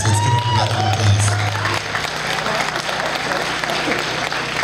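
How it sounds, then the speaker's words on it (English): Steady applause from a large crowd at a grape strike commemoration, loud and sustained throughout, with a few cheers mixed in near the start. "let's give him a round of applause."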